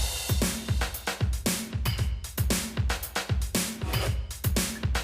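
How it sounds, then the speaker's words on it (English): A drum beat assembled from MTV Music Generator samples, including a small metallic clank and a reversed hit, loops in a steady, punchy rhythm with repeated kicks and snares, loud and alone. "So then all together, the drums sound like this."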